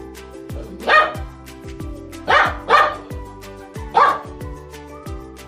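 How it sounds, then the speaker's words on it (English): A dog barks in an educational farm-animal sound sequence: four loud, close single barks, one early and a quick pair then another later, over a steady low background tone. "Dog."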